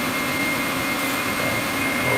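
A power sander shaping the body of an AR85 bass guitar, giving a loud, steady, unbroken whirring roar throughout with no talking.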